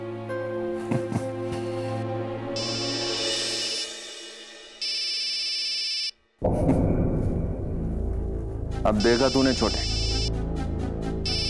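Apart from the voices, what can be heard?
phone ringing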